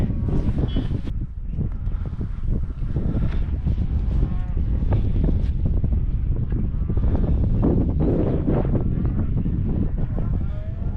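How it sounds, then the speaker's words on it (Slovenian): Cows on the summit of a former volcano on Terceira in the Azores give occasional distant moos, largely buried under loud, constant wind buffeting the microphone. "Pa kravce."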